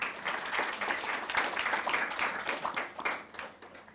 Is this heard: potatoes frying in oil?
no